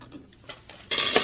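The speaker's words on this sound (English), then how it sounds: "cut the bacon in half" A knife cuts bacon strips in half, probably on a board or plate. A few soft taps come first, then a short, bright clatter near the end, all close up with no talking.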